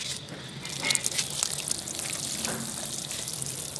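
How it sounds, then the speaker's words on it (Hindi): Water is poured into a potted garlic plant, a steady splashing and trickling into soil, close and continuous with a few brighter drips on top. "आइए पानी डाल के दिखाते हैं।"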